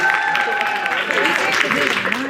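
Audience of women clapping and cheering for a guest at a live mental health and leadership panel, dense applause with whoops and voices over it, fairly close and loud.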